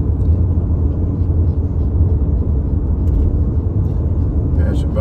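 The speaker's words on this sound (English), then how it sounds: "Passing by some big trucks." Big trucks pass on a Mexican highway between San Luis Potosí and Nuevo León, giving a loud, continuous low rumble of heavy engines and road noise heard from a moving vehicle, with a brief sharper burst near the end.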